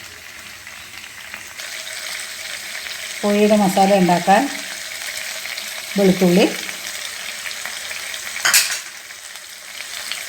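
Steady close-up sizzling of food frying in oil for Thalassery chicken dum biryani runs throughout, with a voice speaking briefly twice over it.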